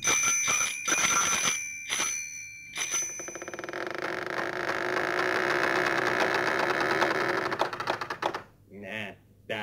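A small bell jingles in quick repeated bursts, first in short separate rings and then in a long busy stretch, with a voice speaking at the end.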